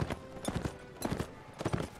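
Horse hooves clip-clopping in the video game Mount & Blade Warband, a quick, uneven run of sharp hoof strikes grouped in pairs and triplets, moderately close and fairly quiet, with no talking.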